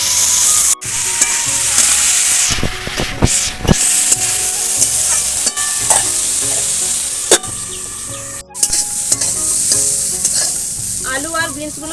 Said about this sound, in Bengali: এবার আলু আর বিনসগুলো ভেজে নেব